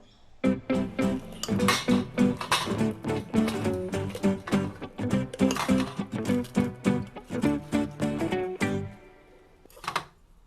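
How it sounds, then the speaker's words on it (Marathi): Cooked chicken popati is scooped from a pressure cooker into a wide vessel, giving a dense run of close clattering metal knocks and scrapes that stops briefly near the end before one last clink. "म्हणजे एका पसरट भांड्यात काढून घेऊया"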